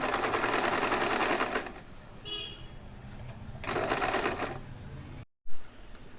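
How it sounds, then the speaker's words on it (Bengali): A sewing machine stitches along a fabric edge while making a small nappy, in two close, rapid whirring bursts separated by a quieter pause, ending with a brief click. "জাস্ট ধার বরাবর আমি এইভাবে সেলাই করে নেব"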